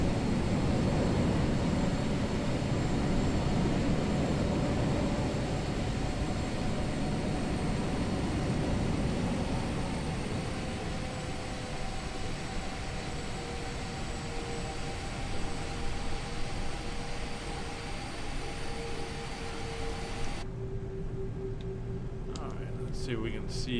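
A cargo jet rolls out after landing with thrust reversers engaged, a loud sustained broadband roar of engine noise that stays steady for about twenty seconds before easing off near the end.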